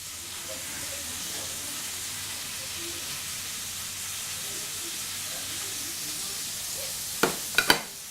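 Cabbage and carrot for chicken shawarma fry in a pan with a steady, even sizzle and hiss throughout, followed near the end by a few quick clinks of a utensil.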